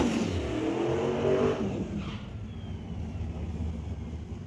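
Drag race cars, a 400 cubic inch Chevrolet and the CT Automotive Mustang, qualifying at Mission Raceway Park: a heavy engine roar that peaks early and then recedes to a steady distant drone, with no talk.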